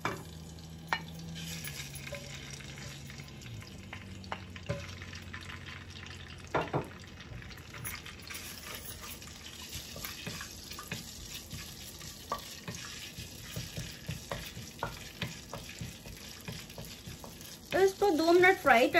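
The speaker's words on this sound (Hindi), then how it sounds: "2 मिनट फ्राई करना है लहसुन अदरक को तेल में।" Garlic ginger paste frying in about four tablespoons of oil in a pan, a steady sizzle with scattered utensil scrapes and taps throughout, growing louder with brisk clattering near the end.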